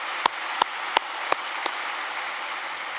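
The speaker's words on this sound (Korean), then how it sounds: "다시 한번 뜨거운 박수를 부탁드립니다." Applause for a minister at a large Easter service held at Yoido Full Gospel Church, a steady hiss of distant clapping punctuated by five sharp, evenly spaced louder claps up close.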